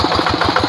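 A Quick Impala hand tractor with a blue Kubota engine and white handles, used for plowing rice paddies, runs steadily with a rhythmic low chug, loud and close, with no voices.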